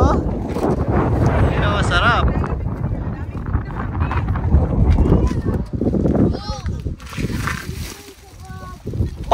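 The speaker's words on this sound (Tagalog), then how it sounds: "Ang lakas ng hangin." Strong wind outdoors at a hot spring buffets the microphone in loud continuous gusts, with people talking over the roar.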